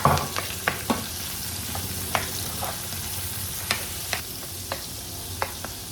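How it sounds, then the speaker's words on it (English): Baby corn and carrots cooking into a Filipino chicken curry in a pan: a soft low simmer and sizzle with scattered, irregular clinks of a utensil stirring against the pot. "And we will add our baby corns and carrots."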